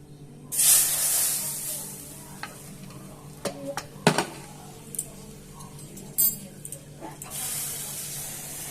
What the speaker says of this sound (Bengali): এইটা দিয়ে আমি মেখে দিচ্ছি কড়াইতে।